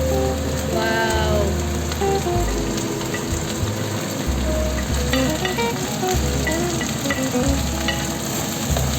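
Okra pieces fry in a hot pan with a loud, dense, continuous sizzle like heavy rain, steady throughout with faint tonal hum and occasional crackles, close up.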